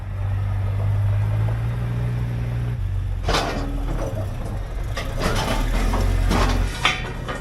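A truck idles with a steady low rumble while hooked to a loaded trailer, joined partway through by clattering, metallic knocks and rattles from nearby handling.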